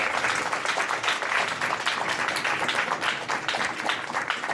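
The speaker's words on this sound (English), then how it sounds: "Round of applause again for our speakers." Applause for the speakers after a talk on the Amazon union, an even wash of many hands clapping throughout at moderate distance with no voices over it.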